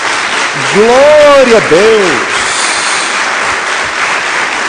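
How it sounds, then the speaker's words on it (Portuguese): A church congregation at a Portuguese-language service breaks into strong applause while a voice calls out over it. The clapping then carries on as a steady, loud wash. "Dê uma salva de palmas a Jesus."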